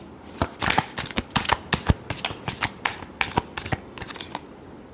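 Tarot cards shuffled by hand in a quick run of crisp riffling bursts, close and fairly quiet, with no talking.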